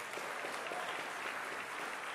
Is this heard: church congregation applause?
yes